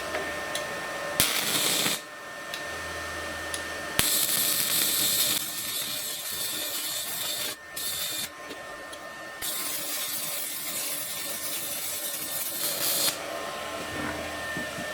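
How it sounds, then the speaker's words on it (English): Stick welding on quarter-inch metal plates with a 3/32 rod at a low setting on a budget $109 welder: a steady loud crackling buzz with brief breaks, close up and with no talk. "I'm going to stick in a 3/32 rod at about 3 on the welder, 3 setting, and we'll see how that goes"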